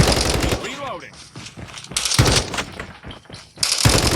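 Automatic gunfire in Call of Duty Mobile, loud bursts of rapid shots in several clusters, with a voice talking between and over them.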